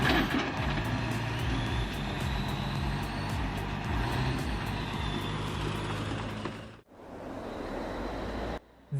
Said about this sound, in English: This truck is hauling logs out of the forest.